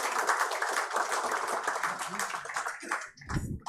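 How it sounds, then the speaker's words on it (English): Applause from a conference audience welcoming a government health official to a healthcare session, dense and steady clapping close by for about three seconds before it fades out. "Can we extend a big round of applause"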